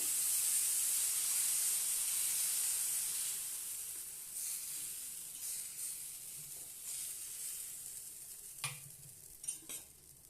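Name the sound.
tomato dosa batter sizzling on a hot oiled griddle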